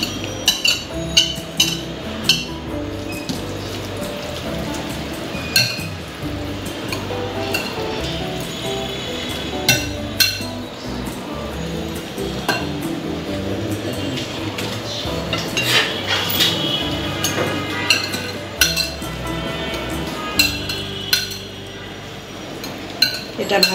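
A spoon clinks and scrapes against a bowl while minced meat filling is mixed for a homemade noodle cake, with rapid, irregular metallic taps running steadily throughout, close and fairly loud.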